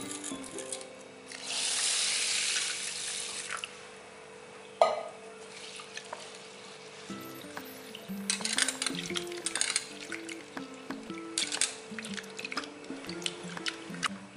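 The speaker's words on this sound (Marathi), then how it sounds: "मुगाची डाळ पाण्याने स्वच्छ धुवून झाली आहे" Moong dal washed in water, with drips, squishy stirring and small splashes over several seconds, set against quiet background music.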